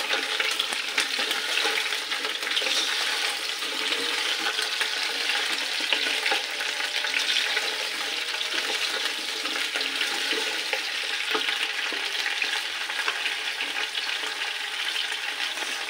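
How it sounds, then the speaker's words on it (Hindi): Onions and chicken feet fry in a pan, giving a steady, dense sizzle that holds at an even level throughout with no talk. "मेरे प्याज भी फ्राई हो रहे हैं और साइड पर मेरे पंजे भी फ्राई हो रहे हैं।"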